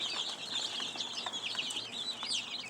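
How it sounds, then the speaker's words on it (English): Several chickens cluck and chatter softly in a steady, overlapping stream, close by with a faint rustling background. "I'm about to feed the chickens."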